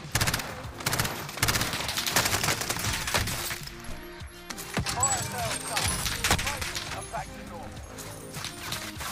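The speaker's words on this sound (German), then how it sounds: "Voll der krasse Schuss auch" Rapid bursts of automatic gunfire from a GRAU rifle and MP7 submachine gun in a video game match at Fortune's Keep, dense and repeated, with a voice talking over the shots.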